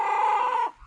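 A chicken gives one close, clear clucking call lasting under a second, then falls quiet.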